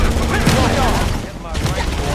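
Rapid automatic gunfire from the video game Halo in a combat scene, loud dense bursts of shots blending into a continuous roar with a short dip before firing resumes.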